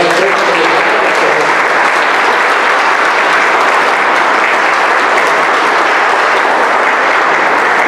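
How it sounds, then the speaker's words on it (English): Loud, dense applause fills a room at a retirement celebration, a crowd clapping steadily and close for the whole stretch without pause, with faint voices mixed in. "But I think a round of applause for them."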